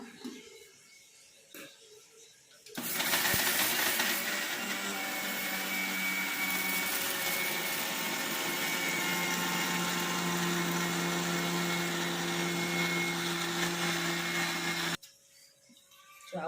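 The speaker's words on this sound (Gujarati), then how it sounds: "આ મિક્સર." A kitchen mixer grinding jaggery and sugar, a loud, steady whirring roar that starts abruptly, runs for about twelve seconds without letting up, then cuts off, with faint room sound before and after.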